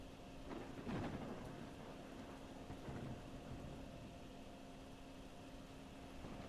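Rain and rolling thunder in the Drain Sim video game, a steady wash of rainfall with low rumbles swelling near one and three seconds and again at the end, heard alone without talk.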